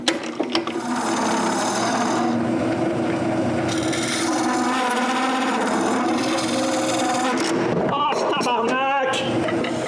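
A wooden mortar spins in a lathe chuck while being turned, giving a loud, continuous scraping and rasping of tool on wood that shifts in texture and breaks into rougher cutting near the end.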